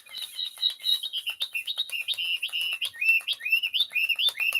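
A touch-activated electronic bird toy chirps steadily, giving a rapid run of bright, repeated tweets and warbling calls close by, with no talking.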